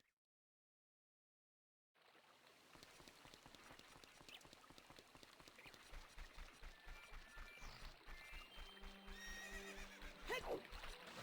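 In the video game Zelda: Ocarina of Time, a horse neighs loudly amid rain-like patter, followed by a quickening clip-clop of hooves that grows louder and more rhythmic toward the end.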